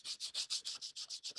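A part for an 1982 Corvette restoration is hand-sanded in steady back-and-forth strokes, about nine even, hissing rubs in quick rhythm, close and alone.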